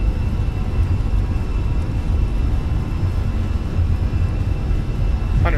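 Fenix A320 Neo rolling down the runway for takeoff in Microsoft Flight Simulator, a steady, loud low engine roar and rumble that holds constant throughout with no talk.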